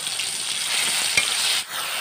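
Chopped tomato with salt fries in a pan, a loud, even, close sizzle with one brief knock partway through and a short dip near the end.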